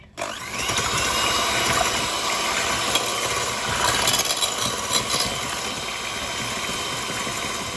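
An electric mixer whirs steadily, beating cake batter for a cream mousseline and raspberry cake, a continuous motorized drone that starts abruptly and holds its level throughout, close to the microphone with no talking.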